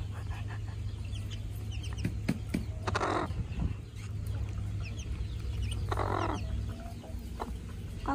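A mother hen clucks while taking a sand bath with ducklings, giving a few short, soft clucks at intervals over a quiet outdoor background with faint ambient hum.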